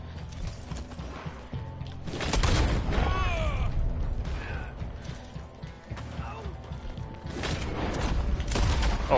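Sharp gunshots crack out in the Red Dead Online video game, several separate loud bursts spaced a few seconds apart over quieter mechanical clicks and rattles.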